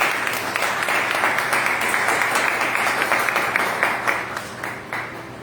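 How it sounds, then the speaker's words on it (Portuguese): A church congregation applauding during a service, loud dense clapping from many hands that stays steady and then slowly thins toward the end, filling the room with no talking over it. "Aplauda mais uma vez o nome do Senhor."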